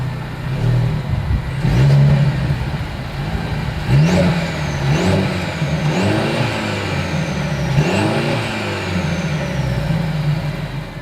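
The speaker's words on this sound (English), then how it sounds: "As always, here is that exhaust clip." A Mercedes-Benz C300 exhaust idles with a deep, steady rumble, then is revved in several rising bursts that fall back to idle. It is close and loud throughout, with no talking.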